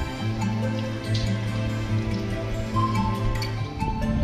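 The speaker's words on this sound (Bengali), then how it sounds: "তার সঙ্গে শুরু হয়েছে বৃষ্টিও।" Rain falls steadily at a seaside resort in Digha on an overcast day, a soft continuous patter with scattered drips over a low steady hum, fairly near and even in level throughout.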